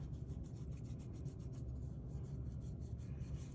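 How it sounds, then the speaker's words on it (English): A fingertip rubs lightly over the raised pieces of a dried-out mixed media topper, giving a soft, steady, faint rasping scrape that continues without pause and with no talking. "rub over the whole thing"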